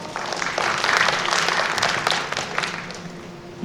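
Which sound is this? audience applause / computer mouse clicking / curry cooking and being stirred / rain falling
audience applause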